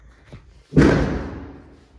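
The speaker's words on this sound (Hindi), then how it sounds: "पता नहीं अभी तक बम क्यों फोड़ रहे हैं, डर गई मैं" A firecracker bursting at night, a single sharp boom a short distance off that decays over about a second, preceded by a faint softer knock.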